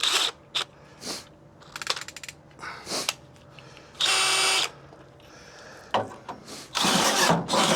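Power drill with a resharpened bit cutting into metal while a fifth wheel hitch goes into a 2007 Ford F250, in loud bursts of whining drilling separated by pauses and clanks, close up.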